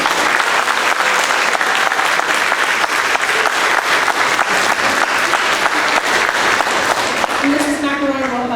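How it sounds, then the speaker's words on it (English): Audience applause for fifth graders at the end of an elementary school spring orchestra concert, loud, dense and sustained clapping filling the room throughout, fading near the end as a voice begins. "one extra special round of applause for the 5th graders."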